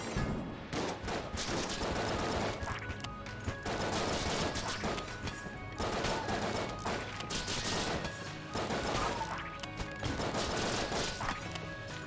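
Enemy gunfire in the video game Enter the Gungeon, dense rapid bursts of shots and impacts firing almost without pause, loud and continuous over layered game sounds.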